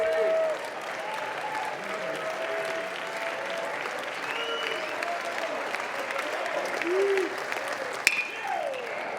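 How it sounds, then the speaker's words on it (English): Baseball crowd at a college game between Xavier and Oregon State cheers and claps steadily in the stands, with a play-by-play announcer talking over the moderate, continuous noise and a brief sharp crack near the end. "Crowd coming alive."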